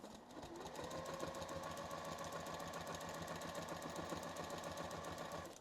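A sewing machine runs continuously at a steady pace, its rapid mechanical chatter stitching pebble quilting circles with no pauses or voices.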